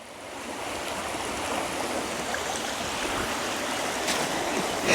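A flooded creek swollen by roughly two inches of rain in half an hour rushes past in a steady, loud, broadband roar of churning water, continuous throughout with no voices.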